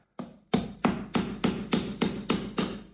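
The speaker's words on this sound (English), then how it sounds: "just give it a tap" A hammer taps screws and wall plugs into a solid brick wall while a TV bracket is fitted, giving eight sharp, evenly spaced knocks close by, each ringing briefly before the next.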